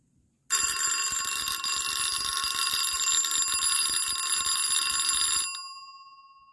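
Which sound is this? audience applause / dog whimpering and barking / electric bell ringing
electric bell ringing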